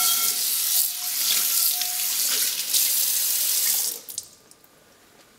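A cast iron pan and its scrubber are rinsed under a kitchen tap, with close steady running water splashing for about four seconds before it shuts off, leaving a few faint drips.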